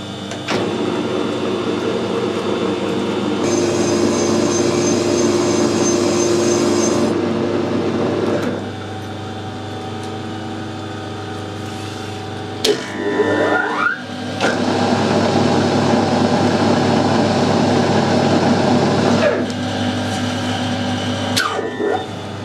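A lathe cutting an external screw thread gives a steady, loud machine hum and whir that runs throughout, with a brief clunk and a change in tone partway through, with no talking.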